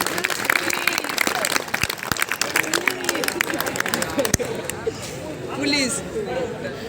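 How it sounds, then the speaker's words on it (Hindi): A crowd at a talk about avoiding drugs breaks into scattered, brisk clapping over several seconds, mixed with chatter and voices, before the applause thins out and talking takes over. "इनके लिए ताली बजाओ।"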